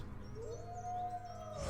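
A dog in the video game Darkest Dungeon gives a single drawn-out howling whine that rises and then holds, quiet and fairly close, over a low background hum.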